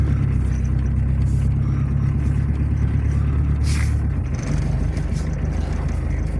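A car is moved into place behind a VW Passat B3. A steady, loud low engine rumble runs throughout and drops in tone near the end, with a brief hiss partway through.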